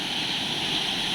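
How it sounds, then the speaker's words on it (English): Waterfall at Kakolem Beach in South Goa, a steady broadband roar of falling water that stays loud and unbroken from start to finish, with no voices over it. "Just have a look at this waterfall"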